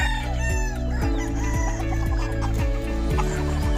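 Chickens cluck steadily while roosters crow repeatedly, loud and close, over a busy farmyard din with no talking.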